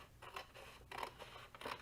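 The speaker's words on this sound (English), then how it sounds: "I'm gonna use my scissors, and I'll just try to be as straight as I can." Scissors snip through a large paper bag in a few quiet, papery cuts, with short bursts of crisp crunching spread across the clip.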